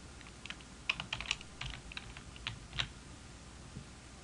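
Fingers tap out quick, irregular keystrokes on a computer keyboard, soft and close, with short bursts and pauses.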